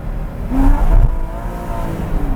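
A fixed Porsche revs its engine as it pulls away, a loud, close rising growl with a sharp surge early on, then settling into a steady throaty drone.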